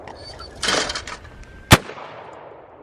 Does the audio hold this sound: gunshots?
yes